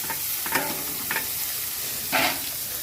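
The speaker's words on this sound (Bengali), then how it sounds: "এখানে পেঁয়াজ কেটে রেখেছিলাম, এই পেঁয়াজ আমি দিয়ে দিলাম।" Chopped onion frying in a pan with a loud, steady sizzle, close up, with a few brief stirring scrapes and a short louder burst near the end; no talk.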